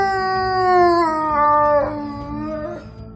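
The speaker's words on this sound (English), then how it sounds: "Each wolf's howl is unique." A wolf howls alone and up close, one long sustained tonal howl that holds steady, then slides down in pitch near the end and fades out.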